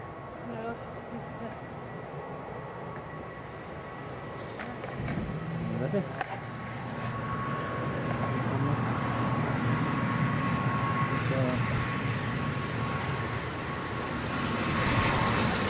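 An Aer Lingus airliner from Belfast lands at Leeds Bradford Airport, its engine roar rising steadily from a distant rumble to a louder, sustained drone while a voice talks over it.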